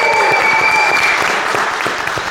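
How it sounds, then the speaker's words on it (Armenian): A television studio audience claps loudly and steadily in dense, even applause for a guest on an evening show, close and sustained for the whole stretch. "Եկ մի անգամից եկեք ծափարենք, Էլեն Ասատրյան, բարձր ծափարենք"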